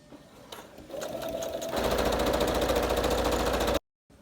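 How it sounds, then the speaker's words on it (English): A sewing machine stitches a fabric face mask, starting with a few short bursts, then running in a fast, even, loud hum before stopping abruptly. "And I'm going to sew to the next corner."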